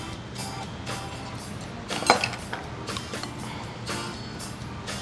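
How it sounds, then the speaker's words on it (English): A utensil stirs a French toast casserole mixture in a dish, giving soft scraping with a few clinks against the dish, one of them louder midway. "I'm going to stir all this together."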